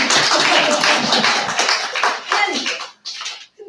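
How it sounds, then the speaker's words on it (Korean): Applause from a church congregation at a teachers' training lecture: dense, steady clapping from many hands fills the space, then thins and breaks off near the end with a few scattered claps. "이때 박수 나와야 돼요."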